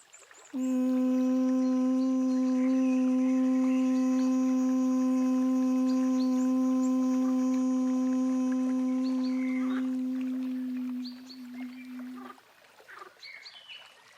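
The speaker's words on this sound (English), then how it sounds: "Exhale with the humming sound, keeping your mouth closed" A steady, tonal hum exhaled with closed lips during yoga breathing, held evenly for about ten seconds before fading out, alone and close.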